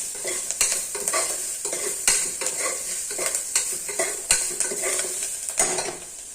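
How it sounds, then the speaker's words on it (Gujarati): Carrots and chilies for a Kathiyawadi-style sambharo stir-frying in oil, a steady close sizzle broken by repeated scraping and clinking of a spoon against the pan, no voices. "હવે આપણે એમાં એને તેલમાં ફેરવવા કરવાનું"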